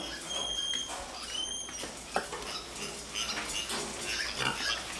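Pigs on a Taiwanese farm: soft grunts and squeals under a steady barn background, with scattered shuffling and a few sharper squeaks, moderately distant.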